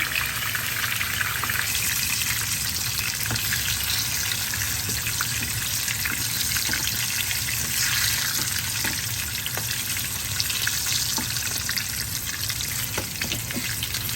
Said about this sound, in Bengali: এখন আমি ভেজে নেব আলুগুলি ভেজে করে আমি লাল করে ভেজে নেব